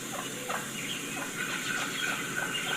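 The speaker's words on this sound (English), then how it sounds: "you'll actually hear them start to get a little bit more aggressive before they fly off the roost." Wild turkeys on the roost, giving soft, faint clucks and yelps a few at a time against steady background hiss in an outdoor dawn setting.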